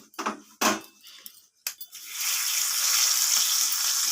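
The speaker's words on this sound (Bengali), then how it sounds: "এরপর ফোড়নটাকে আমি একটু ভেজে নেব যতক্ষণ না ফোড়ন থেকে একটা মিষ্টি গন্ধ বেরোচ্ছে।" Whole cloves, cardamom, cinnamon, bay leaf and dry chilli hitting hot oil in a kadai: a few clinks and taps first, then a steady, loud hiss of frying that holds to the end.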